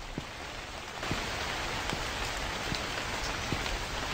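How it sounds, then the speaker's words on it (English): Steady rain pours down at night in the horror game The Convenience Store, a dense continuous hiss of drops on surfaces with occasional louder taps, loud and close with no voices over it. "It's a nice little rainy night."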